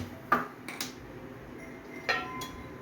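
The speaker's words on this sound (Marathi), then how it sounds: "आणि फ्राय पॅन ठेवायचं" A frying pan is set down on a gas stove while cooking an oats egg chilla, giving a few faint metallic clinks and taps spread over a couple of seconds against a quiet kitchen background.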